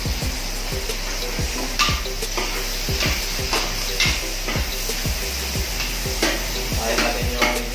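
Garlic sizzles steadily in hot oil with onions in a pan, under a regular rhythm of spatula scrapes and stirring knocks against the pan.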